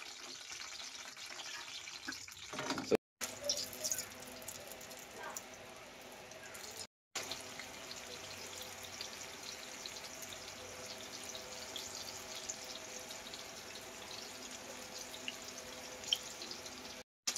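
Eggplant frying in hot oil, a steady close sizzle and crackle that goes on without a break, stopped only by two brief cuts of silence, with no talking over it.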